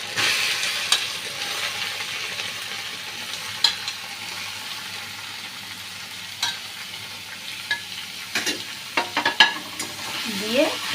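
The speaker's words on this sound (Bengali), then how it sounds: "এই চাল কুমড়োটা এবার এই তেলের মধ্যে দিয়ে দেব" Ash gourd pieces sizzle in hot oil with ginger paste, a steady close-up frying hiss broken by sharp scrapes and knocks of a spatula stirring the pan, which cluster toward the end.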